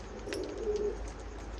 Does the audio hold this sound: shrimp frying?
no